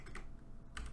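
Quick keystrokes on a computer keyboard, two short bursts of clicky typing close to the microphone with a brief pause between them.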